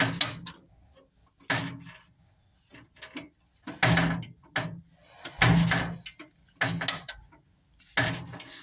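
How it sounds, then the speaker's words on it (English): Simca Aronde car door swung repeatedly against its door restraint, a series of sharp metallic clunks and rattles separated by brief quiet gaps, close and clear, without talk. "I would like the door to open more"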